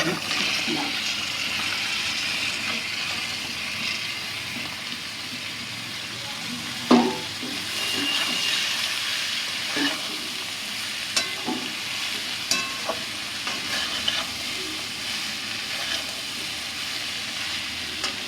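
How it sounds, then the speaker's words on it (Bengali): Chopped, washed bottle gourd sizzles in a pan with cumin for a rohu fish-head gourd dish, a steady close hiss broken by a few sharp clinks and scrapes of stirring, with no talking. "কাটা লাউটা দিয়ে দেবো"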